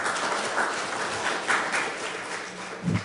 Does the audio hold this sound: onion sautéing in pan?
no